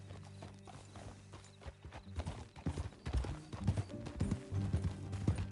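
Horse hooves in Red Dead Redemption 2 clip-clop steadily on hard ground, growing louder and busier partway through, with a faint low hum underneath.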